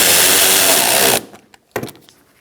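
A power driver whirs loudly, tightening a bolt on a 2012-2018 Ford Focus inner fender liner, then stops abruptly, followed by a short mechanical burst and faint clicks.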